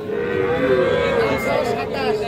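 A small bull calf at a crowded cattle market gives one long, loud moo close up, with faint market chatter underneath.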